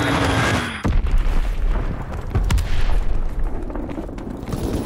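Heavy bomb explosions in the World War II shooter Call of Duty WWII boom loudly one after another, with deep rumbling blasts, crackling debris and scattered gunfire and no talk.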